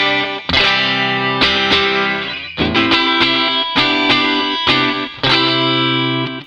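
Electric guitar run through amp models on a Line 6 HX Stomp with a tremolo effect, loud and close, playing sustained distorted chords in several strummed phrases with pulsing, wavering sustain and no talking.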